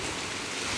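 Rain beginning to fall outdoors, a dense, even hiss of drops spread across the whole moment, moderately loud with no voices over it.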